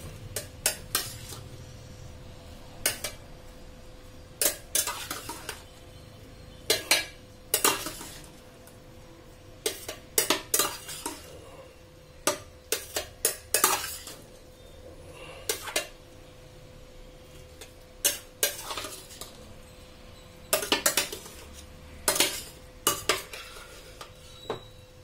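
A utensil scrapes and clinks against a pan while radish masala curry over fried onion is mixed, giving repeated irregular metallic knocks and scrapes over a low background hum, close and moderately loud.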